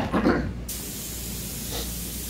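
A paint spray gun at around 25 psi coats the bonnet of an HQ Holden with overlapping passes. A brief muffled rustle opens, then a steady, close, continuous hiss of spraying carries through to the end.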